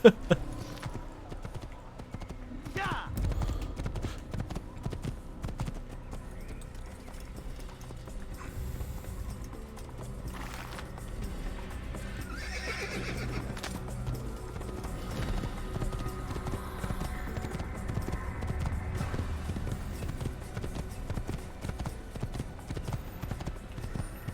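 Horse hooves clip-clop steadily in the Assassin's Creed video game, a continuous rhythmic trot over ambient game sound, with a brief whinny and occasional faint voice in the background.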